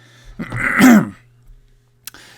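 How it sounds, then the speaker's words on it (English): A single rough throat clearing with a short cough-like rasp, close by, followed by quiet and a small click. "Still getting over this cough."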